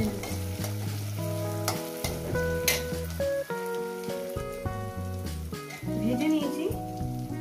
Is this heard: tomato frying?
yes